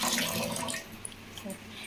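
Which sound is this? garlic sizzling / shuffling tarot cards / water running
water running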